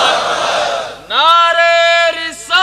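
A crowd at a religious gathering answers the Nara-e-Takbir slogan, first a broad noisy roar, then a loud sustained chant of many voices in unison, held in long drawn tones with brief breaks.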